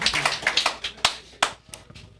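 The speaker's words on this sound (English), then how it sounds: "Everyone's clapping for me." A handful of people clap at a live debate on dating, giving a sparse, uneven run of sharp close claps that dwindles to a few isolated hits.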